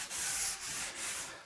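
Sandpaper rubs over a handmade surfing belly board in a few quick back-and-forth strokes, a close, hissy scratching with no voices.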